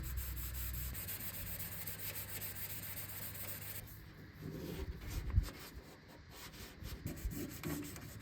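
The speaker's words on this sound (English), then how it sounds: "Now it's time for my favourite job, sanding." Abrasive rubbing strokes sanding a car body by hand, steady at first and then choppier and uneven, fairly quiet with no talking.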